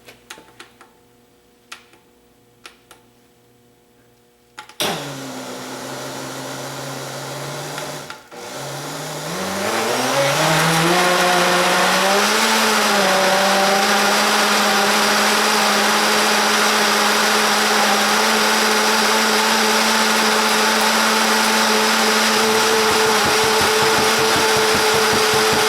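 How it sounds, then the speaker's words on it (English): A countertop blender grinds herbal bentonite clay face mask powder, starting abruptly, rising in pitch as the motor speeds up, then holding a loud steady whir to the end; earlier, quiet clicks and handling precede it. "now I'm using this blender of mine because I thought this would be a safer way to do it with less puff."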